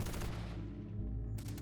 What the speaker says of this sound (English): Gunfire was heard.